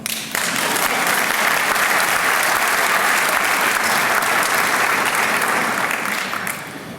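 Sustained, dense applause from a large banquet audience at a Chicago AHEPA grand banquet, steady and loud throughout before tapering slightly at the end.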